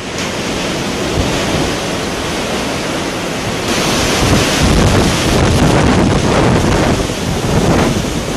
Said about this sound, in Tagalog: At sa mismong sandali nang dumaan ang pinakamalakas na hangin